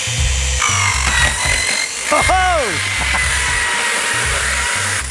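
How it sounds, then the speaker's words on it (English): A Razor Tools Rotorazer compact circular saw plunge cutting, its steady motor whine carrying loud and close through the cut, with a voice exclaiming over it. "You know what, I could plunge cut with this because it has a circular blade."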